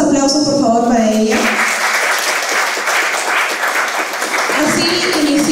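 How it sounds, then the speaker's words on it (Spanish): An audience at a literary discussion panel honoring Edgardo Rivera Martínez's narrative breaks into loud, sustained applause for a speaker, dense clapping that follows a brief spoken announcement and continues to the end. "fuertes aplausos por favor para ella"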